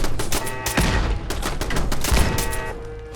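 Turrets in Fallout 4 open fire in a rapid, dense burst of automatic gunfire, close and loud, with rattling shots packed together across the whole stretch and no voices.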